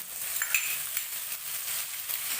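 Oil sizzles in a pan while making chilli fish, a soft, steady, close frying hiss with a few faint clinks and no talk.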